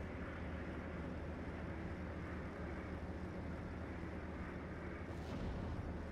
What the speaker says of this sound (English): Dropping bombs.